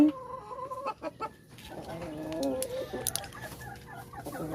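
Free-range roosters and chickens on a farm give repeated clucks and short calls, some near and some farther off, in a quiet outdoor setting.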